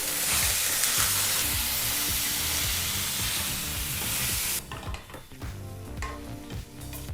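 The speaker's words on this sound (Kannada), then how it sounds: "ಈಗ ಈ ಮೂರು ಪದಾರ್ಥನೂ ಮೂರರಿಂದ ನಾಲ್ಕು ನಿಮಿಷ ಮೀಡಿಯಂ ಫ್ಲೇಮ್ನಲ್ಲೇ ತುಪ್ಪದಲ್ಲಿ ಚೆನ್ನಾಗಿ ಹುರ್ಕೋಬೇಕಾಗತ್ತೆ" Paneer and other ingredients for kadai paneer fry in ghee over a medium flame with a loud, close, crackling sizzle, which drops off sharply partway through into quieter stirring and scraping in the pan.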